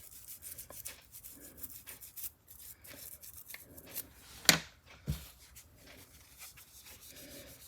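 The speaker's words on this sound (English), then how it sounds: "This is a relatively soft bristle brush here. It's not steel or brass." Soft non-metal bristle brush scrubbing old paint off a screwdriver handle, a quiet continuous rubbing with a few sharper scraping strokes near the middle.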